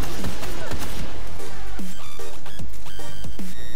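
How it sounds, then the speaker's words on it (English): Thorn and Last Word exotic hand cannons fire in Destiny, a run of loud sharp gunshots at a medium, regular rate with metallic ringing tails, close and without voices. "I will use this weapon without aiming and I will simulate a medium rate of fire"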